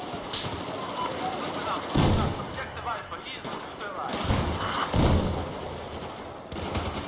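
Heavy gunfire in Battlefield 4 during a Domination match, loud booming shots and bursts repeating every couple of seconds, with a voice talking over the combat.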